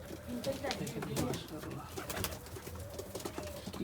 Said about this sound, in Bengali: এগুলো কিন্তু কবুতর